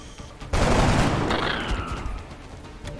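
A loud, sudden volley of gunfire in the XCOM video game, breaking out after brief quiet and rolling on for about two seconds before trailing off into a fading echo.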